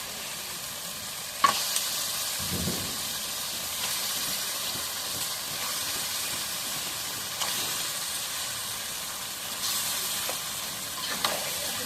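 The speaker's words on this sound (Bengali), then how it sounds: "এখন মশলাটা লাল লাল করে কষানো হয়ে গেছে, মাছগুলো দিয়ে দিই," Fish pieces go into a pan of spice paste fried until red, producing a soft, steady sizzle and hiss with occasional clinks and stirring scrapes, fairly faint throughout.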